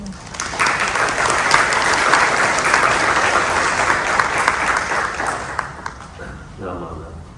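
Sustained audience applause in a temple hall at a Fresno Betsuin Ohigan service, a dense wash of clapping that holds steady for several seconds before tapering off, with a voice starting at the end.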